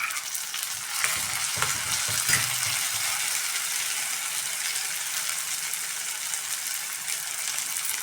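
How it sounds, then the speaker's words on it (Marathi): Diced potato and barnyard millet (bhagar) sauté in a pan over a medium gas flame, giving a steady, bright sizzle with a few scraping stirs near the start. "मिडियम गॅसवरती आता हे बटाटा आणि आपण ही भगर टाकलेली व्यवस्थित परतून घ्यायचं"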